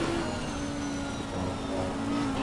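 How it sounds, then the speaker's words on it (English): A GT race car's engine roars in a sim-racing game on a wet Imola circuit, a smooth steady high drone that slowly shifts in pitch with no speech over it. "Beautiful sounding engine"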